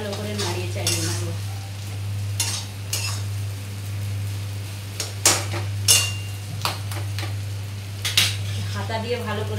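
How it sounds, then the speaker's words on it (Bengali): A metal spatula scrapes and clatters against a pan as spiced fried potatoes are stirred, irregular close knocks and scrapes over a steady sizzle and a low constant hum, no speech. "খুন্তি দিয়ে ভালো করে নাড়িয়ে চাড়িয়ে নেবো।"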